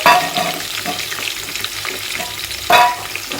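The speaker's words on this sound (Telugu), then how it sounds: "ఇది కొంచెం ఫ్రై కావాలి ఇప్పుడైతే కొంచెం ఫ్రై ఇప్పుడు కొంచెం ఫ్రై అయిపోయినా ఒక ఉల్లిగడ్డ వేసుకుంటున్నాను" Masala and onion sizzling in a pan for tomato rice, a steady close frying hiss with a few stir scrapes, and a louder burst of sizzle near the end as the onion is added.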